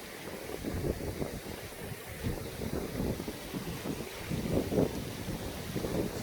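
A river flows outdoors on a walk downstream from a wild camp, a steady broadband rush of water mixed with gusty wind buffeting the microphone, with no voices.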